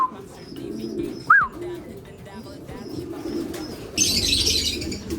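Pigeons in a loft, soft low cooing murmurs under faint chirps, with a brief whistle-like call and a burst of wing flapping or rustling near the end.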